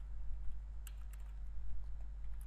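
Faint, sparse clicks of keys being typed on a computer keyboard over a low steady electrical hum.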